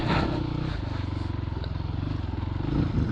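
A Christini all-wheel-drive 250cc dirt bike engine putters steadily nearby with a pulsing low throb on a single track, fairly quiet, swelling slightly at the start and end.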